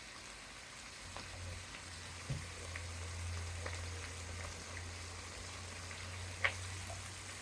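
Vegetables, roasted poblano among them, sweat down in a pot for chili con carne with a soft, low sizzle and gentle bubbling, faint and steady throughout, with a few light ticks and clinks.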